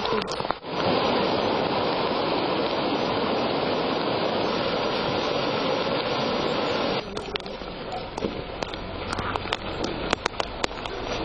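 Floodwater rushing into a home after heavy rain in Alba County, Romania: a loud, steady roar of flowing water, then rougher with scattered knocks and crackles in the last few seconds.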